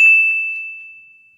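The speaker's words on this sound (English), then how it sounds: "ring the bell to be notified for our latest video." A single bright notification bell ding rings out clearly and alone, its clean metallic tone decaying slowly into silence.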